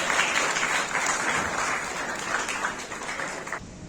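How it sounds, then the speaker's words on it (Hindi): An audience at a Chhath Puja festival gathering gives steady, vigorous applause, a continuous wash of many hands clapping at moderate loudness that lasts throughout without pause. "एक बार जोरदार ताली पीटर दें"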